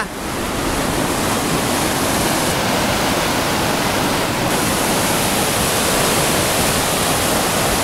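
A heavy, unbroken roar of rushing spring floodwater in a ravine fills the scene, loud and close, like a swollen river surging past.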